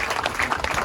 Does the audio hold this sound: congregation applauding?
yes